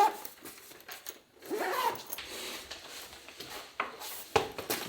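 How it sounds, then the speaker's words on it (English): A camera bag for a Sony and DJI gear setup gets zipped shut, giving a couple of close, raspy zipper pulls mixed with soft handling rustles and a brief thump. "let's zip this up"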